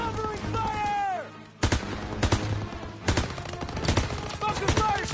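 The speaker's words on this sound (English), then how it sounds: "Lay suppressive fire!" Dense volleys of rifle and machine-gun fire from a Call of Duty WW2 Battle of the Bulge fight, sharp repeated cracks in bursts after a brief pause, with shouted voices over the shooting.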